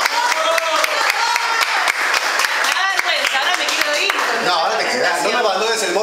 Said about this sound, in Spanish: Amamos a Melania de Boa, fuerte aplauso.